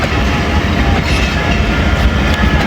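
Passenger train pulling away from Attock City Junction station, a loud, continuous close-up rumble of wagons with wheel clatter filling the whole stretch and no clear voices.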